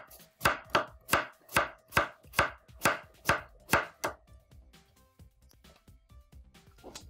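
A kitchen knife from an inexpensive Everrich ER-0198 set chops a cucumber on a cutting board, with about ten sharp, evenly spaced knocks that slow and soften into lighter, fainter taps at the end.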